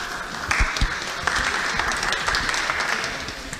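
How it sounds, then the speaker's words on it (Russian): Audience applause at a ProductCamp lightning talks session as the next speaker is welcomed, moderately loud steady clapping with a few sharper individual claps standing out. "Хлопаем, похлопаем."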